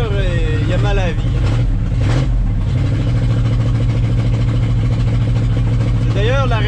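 Worn engine of a 1978 GMC K25 pickup running rough at idle, a loud, steady low rumble throughout with a brief surge midway, while someone talks over it.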